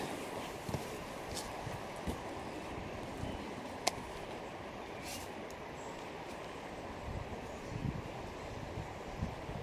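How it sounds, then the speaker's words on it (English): Steady wind buffets the microphone at a winter campsite with a constant low rumble and roar, with a few sharp knocks and clicks scattered through it. "It is very windy."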